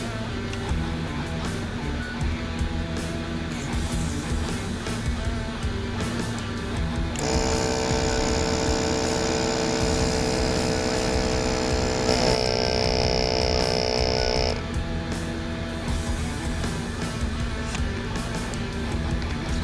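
A steady mechanical hum from a vacuum sealer sealing fish runs for several seconds, its pitch shifting partway through, then cuts off, over a constant background drone.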